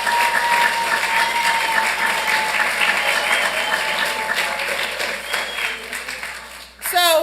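At a city council meeting, a room claps in sustained applause for a wrestling team for several seconds, fairly loud and steady, fading slightly before a voice cuts in at the end.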